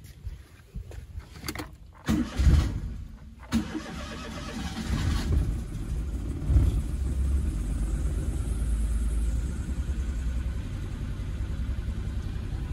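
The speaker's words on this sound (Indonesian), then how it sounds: "Kita akan start enjin kita dan kita tengok hasil." Close car engine cranked and started after a spark plug change: a few clicking attempts, then the engine catches and settles into a steady rumbling idle.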